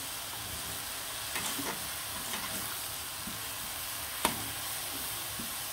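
Red amaranth greens frying and being stirred in a pan give a steady broadband sizzle. A few soft scrapes of stirring and one sharp utensil clink land near the four-second mark.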